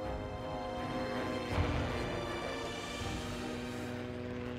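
A 1955-built MiG-15 fighter jet runs with a steady, dense engine roar and tonal whine that surges briefly partway through, heard alone and fairly close.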